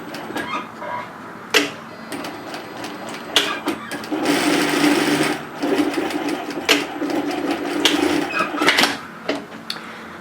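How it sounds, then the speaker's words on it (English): Sewing machine stitching a seam on a knit off-shoulder sweater, running in bursts with brief stops and a sustained whirring run in the middle, close and fairly loud. "we're going to sew from the notch towards that drill mark but we want to sew past it"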